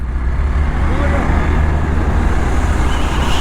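Road traffic near the Sendhwa Ghat crossing into Madhya Pradesh on a hot day: cars and trucks give a steady, close, broadband rumble with a deep low drone that never lets up.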